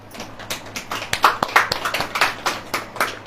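Audience clapping during a Hindi sermon gathering, a loose scatter of hand claps with uneven rhythm, some sharp individual claps standing out near the listener against a thinner background of hands.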